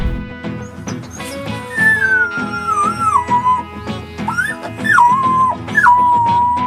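Young wolf pups whimper and yip in high, wavering whines that slide up and down, with soft growls and scuffling underneath, close and fairly loud throughout.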